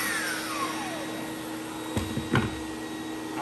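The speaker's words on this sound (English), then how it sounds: "once you have a really good vacuum, you're not gonna have any dust at all whatsoever" A vacuum extracts drywall dust with a steady, loud whooshing roar that continues throughout. A falling whine is heard early on, followed by a couple of brief knocks and rattles.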